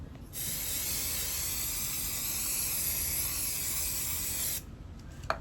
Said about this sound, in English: I'm just gonna spray it with this adhesive